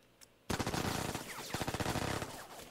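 Rapid gunfire bursts in the tactical video game Lock & Load Tactical start abruptly after a quiet moment and keep up as a loud, dense rattle of shots.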